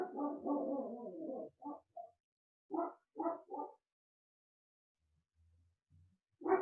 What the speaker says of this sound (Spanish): ese era mi perro.